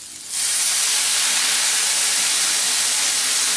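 A splash of water hits vegetables frying in a little oil for an oats poha dish, setting off a sudden loud hissing burst of steam and sizzle that holds steady and close with no talking.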